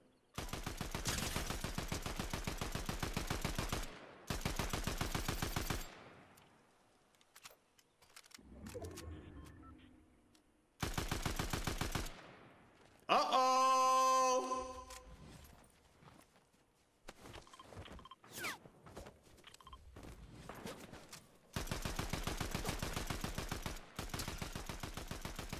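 Gunfire in the video game Fortnite comes in several loud, rapid bursts separated by pauses, with scattered footsteps and other game effects between them, and no talking.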